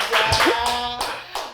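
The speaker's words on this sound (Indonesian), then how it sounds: "Kita beri tepuk tangan lagi dong." Talk-show studio audience applause comes as a short burst of clapping hands, close and fairly loud, with a few distinct claps standing out as the sound fades.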